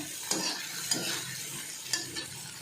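Methi thecha with salt and coriander sizzling softly in a pan over lowered gas, a continuous close hiss broken by a few sharp spoon scrapes against the pan, no voices.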